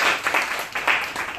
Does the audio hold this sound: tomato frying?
no